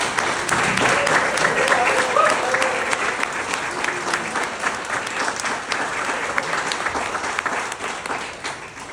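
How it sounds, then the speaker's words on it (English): An audience at a board celebration applauds with dense, steady clapping that fills the room and slowly tapers off, with a faint voice underneath. "So a big round of applause."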